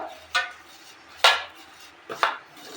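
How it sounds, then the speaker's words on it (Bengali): Biscuit crumbs and powdered sugar being mixed in a bowl: three separate close knocks and scrapes of a spoon against the bowl, spaced about a second apart. "বিস্কুট গুঁড়োগুলো ঢেলে দিলাম চিনির গুঁড়ো ভালো করে এর সঙ্গে মিক্স করে নেবো"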